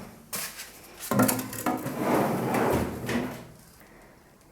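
A drawer in a craft room slides open with wooden scraping and rattling, as metal craft punches inside clink and shift about, several close, moderately quiet bursts of clatter.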